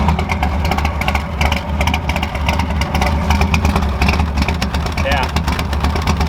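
A Ford F100 engine running a little rough with a misfiring cylinder, a loud continuous idle with uneven pulsing close by, while a voice talks over it.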